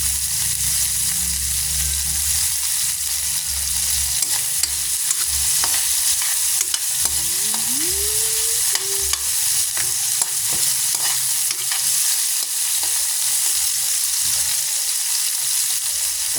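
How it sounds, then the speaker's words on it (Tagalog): Tomato and ginger sizzle in leftover fish oil in a pan, a steady close frying hiss with occasional scrapes and clinks of stirring throughout. "Gisa mo yung kamatis at luya sa pinagtulutuhan ng isda"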